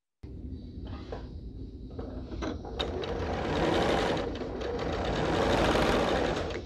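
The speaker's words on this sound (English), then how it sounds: "We're going to just sew a quarter an inch on either side of that line." A sewing machine stitches quarter-inch seams on a quilt block, its motor whirring in a steady close buzz with a few short pauses and clicks before running continuously and growing slightly louder.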